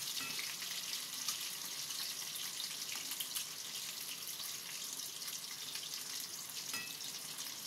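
Chili chicken fries in a pan with a dense, continuous, fairly quiet sizzle and crackle, holding steady throughout with only faint scattered pops and no voices.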